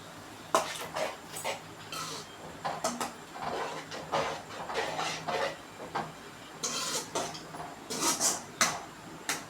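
A metal ladle stirs Maggi noodle masala in a pan with irregular scraping clinks and knocks. The strokes sound close and moderately loud, with no talking.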